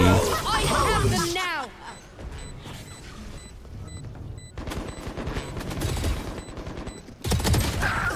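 Gunfire in Valorant rattles in bursts of rapid shots and booms, loud and close, with game sounds and beeps between them while players talk over the action.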